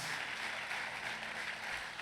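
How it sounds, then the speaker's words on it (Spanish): Church congregation applauding fathers for Father's Day, a steady, faint wash of clapping held evenly throughout with no talk over it. "Un aplauso a todos los papás"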